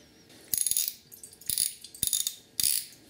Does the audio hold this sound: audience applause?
no